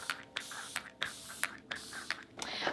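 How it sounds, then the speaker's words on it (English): Makeup setting spray is spritzed onto a face in a quick series of about six to seven short pump bursts, each a close, crisp hissing puff in an even rhythm. "I am still gonna give myself a spritz."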